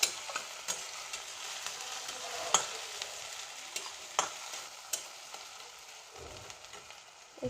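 Ginger, garlic and turmeric paste frying in a pan, a steady soft sizzle with scattered clicks and scrapes of stirring, close and continuous with no voices.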